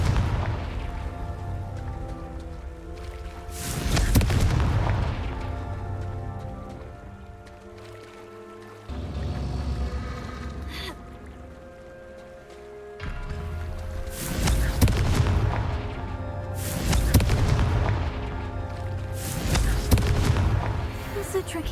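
Confringo spell explosions from Hogwarts Legacy, a string of loud broadband blasts at irregular intervals, several clustered late, over a rumbling game soundscape with music.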